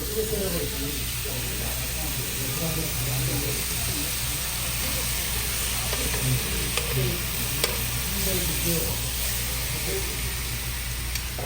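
Pork sizzles and crackles steadily in a hot pan as it is stir-fried, a constant frying hiss with a voice talking over it.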